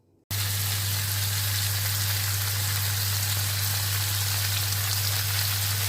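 Turkey meat frying in oil with a little pork fat in a wok, a steady broadband sizzle that starts abruptly and holds at an even, close level with a constant low hum beneath and no talk.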